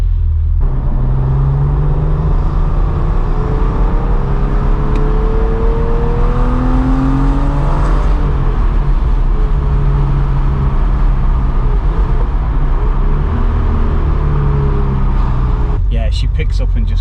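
A Porsche 993 C4 with around 212,000 on it pulls hard on a test drive, engine note rising steadily as it accelerates under road and wind roar, with people talking inside the cabin.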